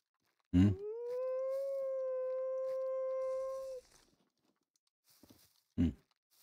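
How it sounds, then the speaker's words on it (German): A wolf gives a single sustained, steady howl lasting about three seconds at moderate distance, framed by a dull thump just before it and another soft knock after a quiet gap. "Da ist der Wolf."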